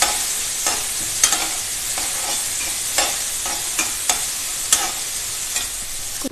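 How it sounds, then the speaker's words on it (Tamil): Chopped onions for pav bhaji sautéing in a pan, giving a steady close sizzle with regular spatula scrapes and taps throughout and no talking. "அதை சேர்த்து நல்லா வதக்கி விட்டுடலாம்"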